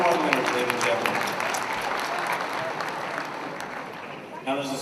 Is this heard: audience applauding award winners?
yes